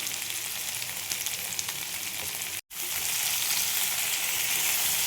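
Tilapia fish with ridge gourd, potato, salt and turmeric fries in hot oil, a dense, constant sizzle that cuts out for an instant midway and then resumes just as strongly.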